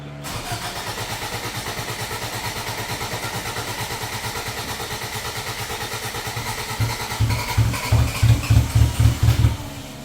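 A 1990 Toyota Tercel carbureted engine cranking after a fuel tank replacement: a steady, rapid starter whir for several seconds, then louder uneven chugging as it nearly catches.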